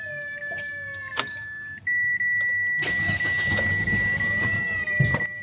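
Mitsubishi Xpander engine cranking and starting in a workshop after a switch-off, preceded by dashboard chimes and beeps, then settling into a steady running hum.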